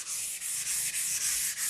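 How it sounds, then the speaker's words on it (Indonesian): Steady, close-up scraping of 1000-grit sandpaper across car paint and surfacer, worked over the whole panel to fix wrinkled paint, in continuous back-and-forth strokes with slight dips between passes, alone without talk. "untuk amplas 1000 ini kita bisa amplas pada seluruh bagian"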